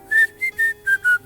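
A person whistles a short tune alone, five clear sustained notes in a steady rhythm, close and loud.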